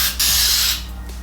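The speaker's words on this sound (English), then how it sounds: "spray some cleaner in there, see if that does anything" A short, loud hissing burst of aerosol cleaner sprayed into a car's airflow sensor, cutting off after about half a second, with a brief faint second puff afterward.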